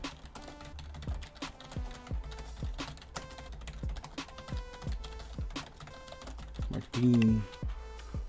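Fingers type on a small computer keyboard in quick, uneven bursts of quiet clicking keystrokes, with a brief voice-like tone near the end.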